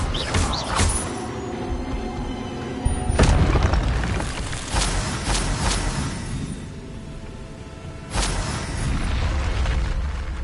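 Expelliarmus spell cast in a Harry Potter video game: several loud magical bursts and booms at about one, three and eight seconds, each followed by rumbling ambience.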